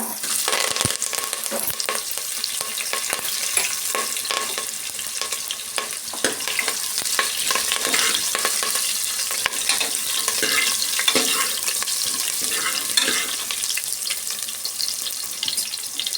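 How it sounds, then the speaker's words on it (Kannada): Onions and curry leaves frying in hot oil with crackling mustard seeds and cumin, giving a loud, continuous dense sizzle with scattered pops, close up and without speech. "ಈಗ ಈರುಳ್ಳಿ ಮತ್ತು ಕರಿಬೇವು ಸೇರಿಸ್ಕೊಳ್ಳೋಣ"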